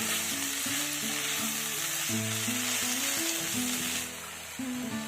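Hot water poured into a pan of cooking pumpkin leaves brings on a strong, hissing sizzle that holds steady, then eases slightly near the end, with a faint melodic backdrop and no talking.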